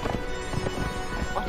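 Horse hooves clop at a steady riding pace in Conan Exiles, close and rhythmic, with someone speaking over them.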